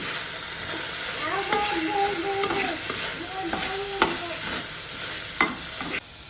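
A salted mixture is stirred in a cooking pan, giving steady scraping and soft sizzling, with a few sharp knocks of the utensil against the pan and faint tonal sounds in the background.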